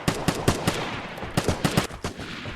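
Gunfire in the video game Vigor, with rapid close bursts of shots in two quick clusters over a steady background rumble, loud and punchy.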